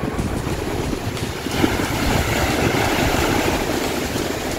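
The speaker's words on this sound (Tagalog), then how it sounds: "Grabe, yung lakas ng alon guys." Steady, broad roar of rough surf with strong wind noise buffeting the microphone, continuous and loud throughout.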